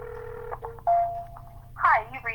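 Electronic telephone tones as a call goes out to a for-sale-by-owner home seller during a real estate cold call: a steady beep, then a longer held tone, then a brief warbling burst, all close and clear.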